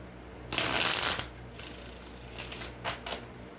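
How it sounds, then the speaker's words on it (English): A deck of tarot cards gets shuffled hard, opening with a loud, close riffle-and-flutter burst lasting about a second, then a few quieter shuffling rustles and taps. "I'm going to shuffle this deck real hard."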